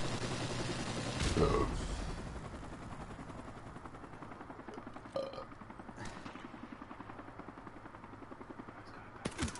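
An enemy helicopter drones over bursts of gunfire in a modern warfare video game, with a loud rumbling blast early on and scattered sharper shots later under constant engine noise.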